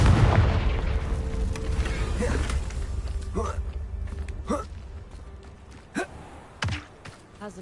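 Explosion spell blasts in the Hogwarts Legacy video game: a rumbling burst followed by several sharp, separate booms and thuds, with voices heard around them.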